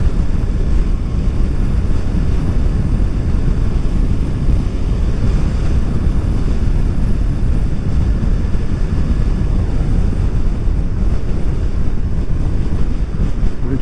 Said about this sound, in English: You get a lot of wind noise past your helmet when you're my height.